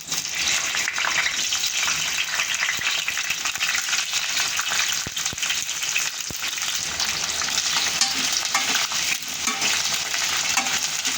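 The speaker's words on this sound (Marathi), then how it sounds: "तेल गरम झालं का आपल्याला हे फ्लावर आहे ना त्याच्यातून हलकासा तळून घ्यायचा आहे" Cauliflower florets frying in hot oil in a home kitchen, a steady close bubbling sizzle with occasional stirring, no talk.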